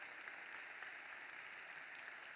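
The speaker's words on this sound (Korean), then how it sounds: "박수 한번 크게 좀 감사하죠?" A church congregation claps steadily after a worship dance, a soft, even wash of applause heard from a distance without voices.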